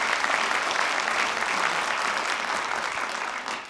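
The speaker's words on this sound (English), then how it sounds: "Give her a round of applause." Sustained audience applause from a studio crowd on a personal finance show, dense steady clapping that continues throughout and only tapers slightly near the end, with no talking over it.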